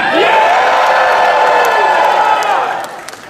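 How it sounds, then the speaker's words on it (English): A large audience at a midnight premiere film screening cheers and whoops loudly in a sustained roar that fades slightly toward the end. "One more big cheer"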